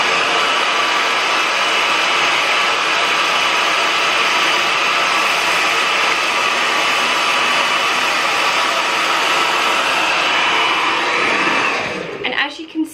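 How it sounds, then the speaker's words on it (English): A hairdryer with its nozzle attached blows on hair in a loud, steady, close-up roar that runs unbroken for about twelve seconds before cutting off abruptly at the end. "put the nozzle back on the hairdryer"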